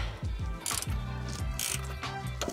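Vice grip pliers twisting a washer that spins in a toilet flange during a repair, giving a rapid series of metallic ratcheting clicks and grinding scrapes close up, with no talking.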